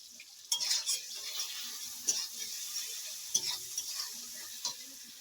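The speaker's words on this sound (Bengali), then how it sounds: "পেঁয়াজগুলোকেও লাল লাল করে ভেজে নেব" Chopped onions with bay leaf fry in hot oil in a pan, giving a steady bright sizzle with occasional clinks and scrapes of a spatula as they are stirred.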